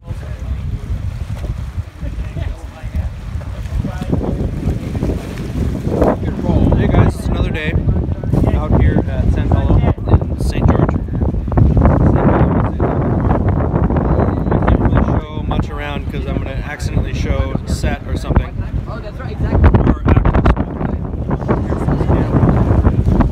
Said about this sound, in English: Nice day, but the wind is tough.